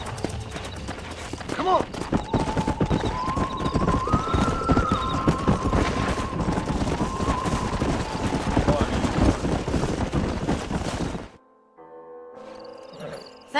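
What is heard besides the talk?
horses clip-clopping in a video game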